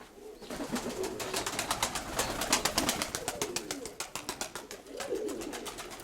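Domestic pigeons in a breeding loft coo in a steady, low warbling rhythm, with several bird calls repeating over about six seconds against a busy, rattly background.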